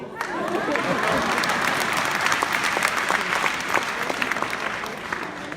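Theatre audience clapping at an inspirational talk in Windhoek, Namibia: dense, loud applause sustained evenly from start to finish with sharper individual claps standing out near the end.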